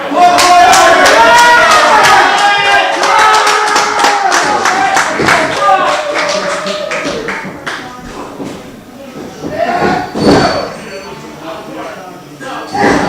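A wrestling arena crowd claps in a fast, steady rhythm and cheers loudly during a tag team match, with the clapping strongest early and then thinning into a mix of crowd noise and voices talking over it.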